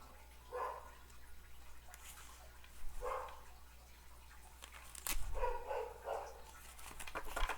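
Several dogs bark in short, scattered bursts at a moderate distance, with a background hiss and low rumble throughout.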